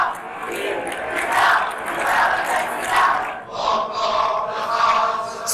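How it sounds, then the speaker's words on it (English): Large crowd chanting in chorus outside the Catalan parliament as independence is declared, rising and falling in rhythmic waves of massed voices that echo around the building, loud and sustained throughout. "The chorus from the crowd outside echoing around the parliament as independence was declared."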